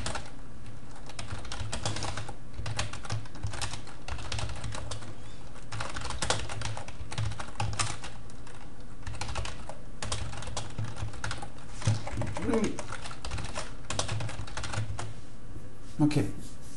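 Code is typed on a computer keyboard in bursts of crisp, close clicks and clacks for about seventeen seconds, with someone talking in German underneath much of it.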